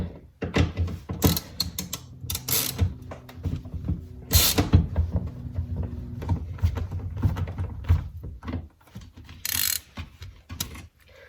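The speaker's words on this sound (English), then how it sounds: "It's got 4 screws, here, here, here, and here, 8mm socket." An 8mm socket ratchet backs screws out of the rear light bar on a Nissan 300ZX Turbo, with repeated bursts of ratcheting clicks, thunks and handling noises, close and fairly loud, with no talking.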